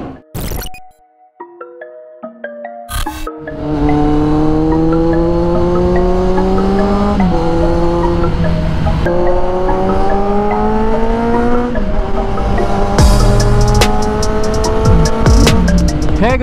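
A large group of about seventy Kawasaki Z900 motorcycles revving hard inside a tunnel, starting with a few sharp blips, then a sustained, loud, echoing roar of many engines rising and falling in pitch.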